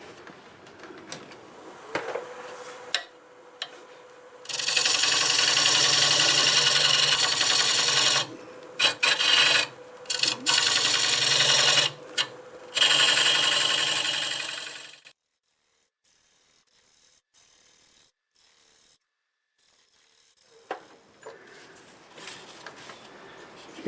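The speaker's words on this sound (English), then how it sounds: "I'm going to use this hollowing tool here just because I'm going on a back angle" A carbide hollowing tool cutting black walnut on a lathe, loud rasping scraping bursts that start and stop several times, followed by a quiet stretch with faint light scrapes, close and without talk.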